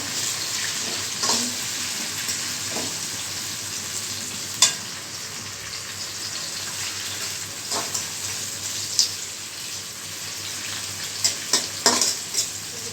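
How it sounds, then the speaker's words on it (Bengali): Steady sizzling of green chilies and raisins frying in oil, with occasional scrapes and taps of a stirring spoon against the pan. "এগুলি হালকা ভাজা করে নেব"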